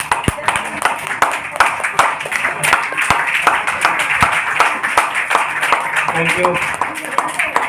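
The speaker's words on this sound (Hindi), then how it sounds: "एक बारी दिल से अच्छे से इनके लिए तालियां बजा के देखें।" A meeting audience claps for new members, a dense run of sharp claps continuing throughout while someone speaks over it.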